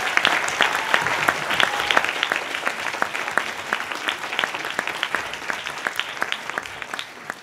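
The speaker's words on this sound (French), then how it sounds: "je pense que nous pouvons les applaudir" An auditorium audience at the University of Lyon's Ma Thèse en 180 secondes local final applauds the science and society service, a dense, steady wash of many hands clapping, loud and sustained without voices.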